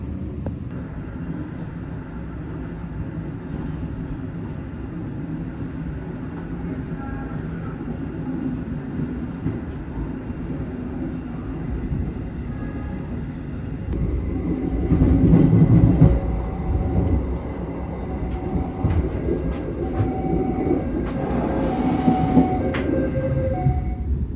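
The Matarmaja passenger train pulls away from a station stop, its low rumble building steadily with clanking wheels and brief metallic squeals, heard from on board.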